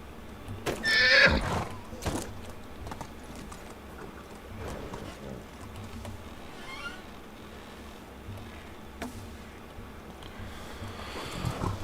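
Horse neighing and clip-clopping hooves in the medieval life-sim game Medieval Dynasty: a loud whinny early on, then hoofbeats and game ambience running on at moderate level.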